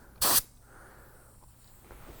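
A Harbor Freight Black Widow 2.0 spray gun lets out one short, loud burst of hissing spray, followed by a faint lingering air hiss.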